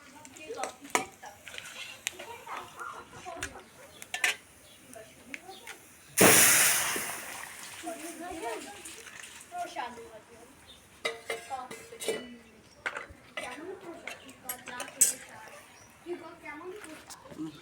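Dal is tempered in a pot: a sudden loud sizzling hiss bursts out and slowly fades, while a spoon clinks and scrapes against the pot in short stirring strokes. A person talks over it throughout.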